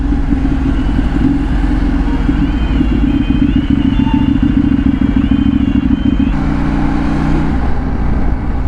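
A motorcycle with a somewhat hard clutch rides along a sunny Budigere road toward Devanahalli, its engine a loud, steady close drone mixed with rushing wind and a noticeable shift in tone near the end.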